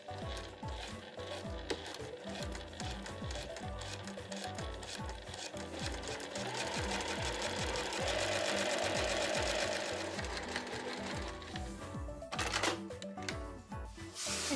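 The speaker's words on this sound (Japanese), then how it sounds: "職業用ミシンの場合は押さえの端とこの布の端を合わせるようにして縫います。" Professional sewing machine stitching a seam in cotton fabric for a drawstring backpack, a fast continuous mechanical rattle of needle strokes running steadily and close for the whole span, briefly pausing near the end, with no talking.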